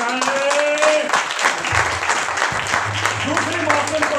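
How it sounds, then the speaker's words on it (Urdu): Congregation at an Easter sermon breaks into loud, sustained applause that fills the whole stretch, with voices audible through the clapping. "زوردار تالیاں بجائیں"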